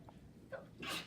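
A single short human sneeze, sharp and close, with a quick intake before the burst and nothing else around it.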